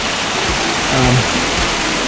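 Steady, loud rushing of water pouring from the 108 taps at the Muktinath temple in Nepal, a continuous broadband splash with no voices.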